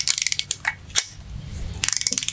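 Ratchet wrench tightening engine bolts on a Volvo Redblock engine being built in a garage: close, rapid trains of sharp metallic clicks, with a single heavier clunk and quieter stretches between bursts.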